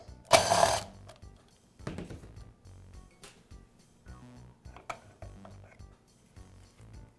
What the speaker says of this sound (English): I'll begin by removing the wheel from the bandsaw that has the bad tire.